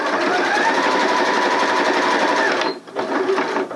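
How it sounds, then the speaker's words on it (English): A sewing machine stitching fabric for a circle skirt, a fast, even mechanical whirr at close range that runs continuously, briefly stops, then starts again for a few more stitches. "just sew a few stitches over where you began"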